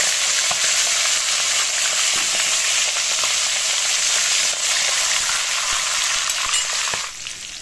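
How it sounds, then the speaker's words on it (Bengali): Fish heads rubbed with salt and turmeric fry in hot mustard oil with a loud, dense, crackling sizzle. Occasional pops and stirring scrapes break through, and the sizzle eases slightly at the end. "এবার মাছের মাথাগুলো আমি ভেজে নেব।"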